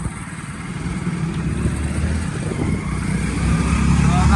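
Eight motorcycle engines drone steadily nearby, a continuous rumbling that grows slightly louder as the bikes ride along together in a line.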